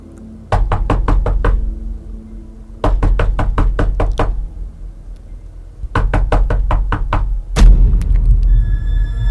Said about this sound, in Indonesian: terdengar suara ketukan.